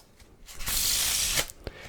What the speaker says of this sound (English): It's quite satisfying when you do get the perfect Faro shuffle to work, but it can be tricky.